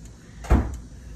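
A single door swings shut with one close, solid thump and a short decaying rattle, standing alone against quiet background noise with no talking.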